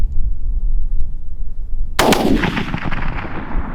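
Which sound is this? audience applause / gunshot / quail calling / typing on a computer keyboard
gunshot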